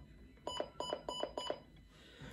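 Five quick electronic button beeps from a Midland WR300 weather radio in a steady row, lower and rounder in tone, close and fairly quiet, then silence.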